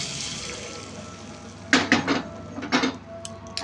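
Heated oil poured from a pan over a freshly mixed quick pickle, with the gas already turned off: two short, fairly close bursts of hissing splash and clinking against a quiet background, no voices.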